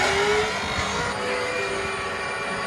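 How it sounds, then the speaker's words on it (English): A Monarch electric tractor drives along, giving a steady mechanical hum and whine with a faint tonal motor note and background rumble, no voices. "Here we're driving this fancy electric tractor."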